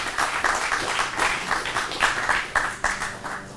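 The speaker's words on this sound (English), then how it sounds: "You guys can clap, it's all right." Audience at a fire academy graduation clapping in a brief round of applause, a moderately near patter of individual claps rising and falling in uneven bursts, no talk over it.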